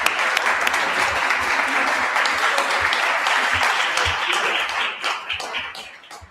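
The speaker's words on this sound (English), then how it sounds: "Big round of applause for Ellie." Loud, dense applause from a conference audience fills the room steadily, then thins and fades toward the end.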